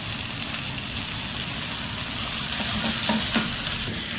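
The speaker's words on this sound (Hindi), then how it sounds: "फ्लेम को मीडियम करके थोड़ा सा भून लेते हैं ताकि जिंजर गार्लिक का कच्चापन खत्म हो जाए" Marinated chicken coated in ginger-garlic masala fries over a medium flame, a dense, close sizzle mixed with stirring scrapes that swells slightly near the end, with no speech.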